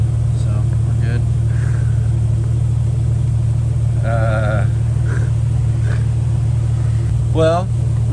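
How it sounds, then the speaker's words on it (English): An abandoned Jeep engine running after a fuel pump install, a loud, steady low idle rumble throughout, with a few brief higher squeaks and whines riding over it. "Got the fuel pump in. She does fire up and run."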